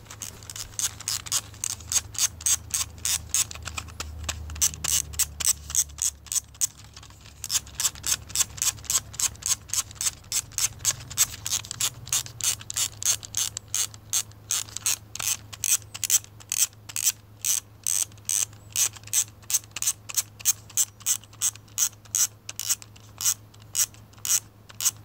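A film camera's scroll wheel clicks in a rapid, regular series of close, crisp ticks, pausing briefly near the start, then continuing evenly for the rest of the clip.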